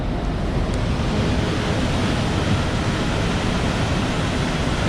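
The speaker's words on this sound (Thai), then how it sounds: "กระแสของน้ำไหล" Rushing water of Khone Phapheng waterfall in southern Laos, a loud, steady broadband roar that holds constant without pause, mixed with some wind buffeting the microphone.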